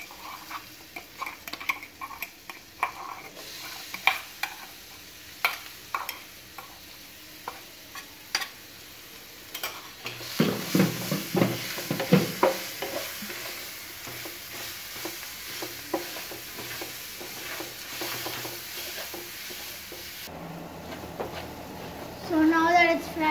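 Rice mixture being stirred and fried in a pan for mango rice, with steady sizzling and the scrape and clatter of stirring. The sound grows louder and busier about halfway through, and a voice talks over parts of it.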